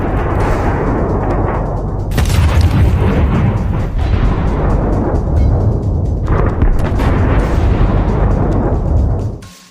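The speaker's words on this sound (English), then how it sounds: "the entire tank bursts into flames. The heated armor plates begin to explode." A tank bursts into flames as its heated armor plates explode, making a loud, continuous roaring rumble with heavier blasts breaking through at two points. No voices are heard over it.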